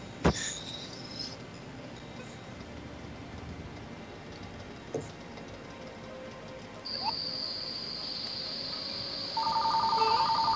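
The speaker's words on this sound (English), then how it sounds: "Oh, hey, it's a phone." A phone rings in an electronic tone that starts partway through and grows louder near the end, over a steady buzzing background with a sharp click at the start.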